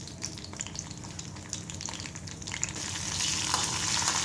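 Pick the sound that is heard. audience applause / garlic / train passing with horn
garlic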